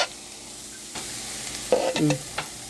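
Capsicum being stir-fried in a pan at home, a soft sizzle with a few scraping stirs and light clinks of a utensil, close and fairly quiet.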